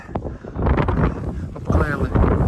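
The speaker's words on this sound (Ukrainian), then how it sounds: "вітер робить свою справу" Gusty wind buffets the microphone with a steady low roar on a rooftop during roofing repair work, while a person talks underneath.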